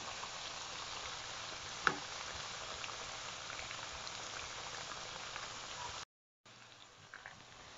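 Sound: zucchini slices frying in a pan

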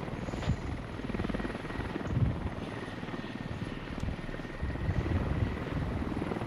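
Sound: helicopter flying in the video game Squad

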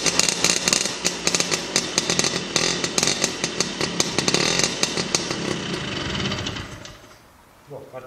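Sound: Vespa scooter engine with Polini 102 kit starting and running

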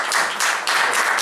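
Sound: applause

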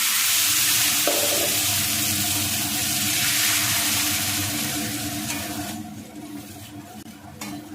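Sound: spice paste frying for chicken kosha

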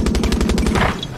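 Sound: gun firing in video game Far Cry 6

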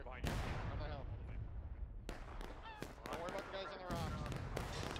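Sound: musket gunfire in the video game War of Rights

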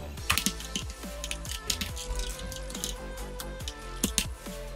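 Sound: typing on a computer keyboard

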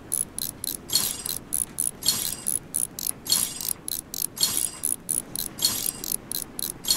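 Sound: removing screws in Train Simulator Mechanic 2017 video game

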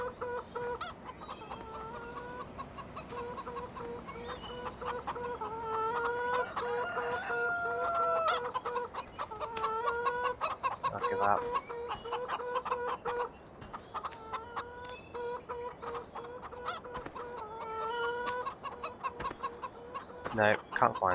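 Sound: chickens clucking in Farming Simulator 2015 video game

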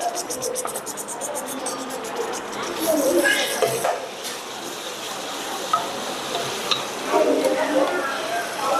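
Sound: onions sautéing in pan with cinnamon and cardamom

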